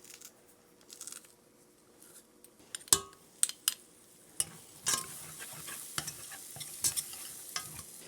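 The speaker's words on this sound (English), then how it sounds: "we're just going to saute the garlic a little bit in the bottom of the pan" Crushed garlic sautés in butter at the bottom of a pan, a soft, quiet sizzle broken by sharp clicks and scrapes of a utensil stirring against the metal.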